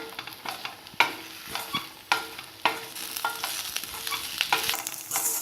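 A tapioca and coconut stir-fry tossed in a pan, with sharp spatula scrapes striking about once a second over a steady low sizzle; no voices.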